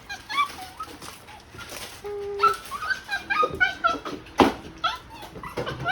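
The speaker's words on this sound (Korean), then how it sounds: "귀여운 강아지." A puppy at a glamping site whimpers and yips in several short, high-pitched bursts, close by, with faint talk and background noise around it.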